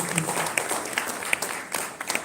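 Brief round of clapping from an audience at an executive business dinner, dense and fairly near, with a few sharper individual claps standing out before it tapers.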